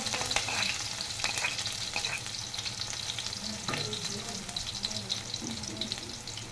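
Chili pieces and garlic frying in hot oil in a pan for quick street-style veg noodles, a steady close sizzle with a few faint clinks and stirring scrapes, no talk.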